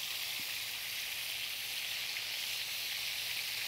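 Pork chops sizzle steadily in a hot pan after being browned on one side, giving a constant, close, even frying hiss with no talk over it.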